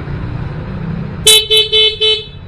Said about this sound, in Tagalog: So, sample natin yung busina muna.